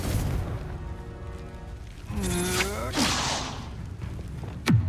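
Hogwarts Legacy combat spell effects, including the fiery Confringo blast: loud whooshing swishes and booming magical bursts over a busy game soundscape, ending in a sharp swooping hit.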